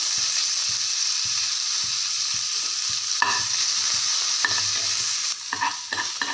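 Chopped chili, ginger and coriander stems sizzle and crackle steadily in hot tempering oil, with occasional scrapes and clinks of a spoon stirring the pan.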